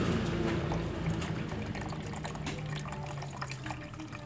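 Water is poured back over a fine cloth while washing gold from river sediment, a soft, close trickling and splashing that runs continuously at low volume.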